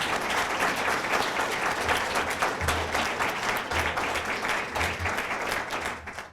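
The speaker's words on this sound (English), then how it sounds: "So one more round of applause for Walt Potter." Audience at a conference gift announcement gives a sustained round of applause, dense steady clapping that fills the room before tapering off at the end.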